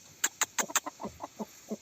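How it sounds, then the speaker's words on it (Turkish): A rooster makes a short burst of clucking calls, about ten quick, close notes in an uneven rhythm. "Çok muhteşem bir horoz."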